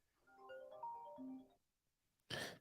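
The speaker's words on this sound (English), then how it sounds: "We're getting a phone call" Phone ringtone playing a short melodic tune of clear tones, then a brief louder burst, fairly quiet and alone with no talking.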